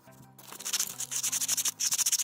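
Coil pack end pieces on a Honda CX500 being scuffed clean by hand before epoxy, a quiet close rhythmic rubbing with quick strokes that repeat steadily over a couple of seconds.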